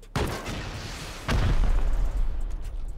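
Gunfire in the survival game Rust, a sharp shot at the start and a heavier booming burst midway, followed by sustained low rumbling, loud with no talk.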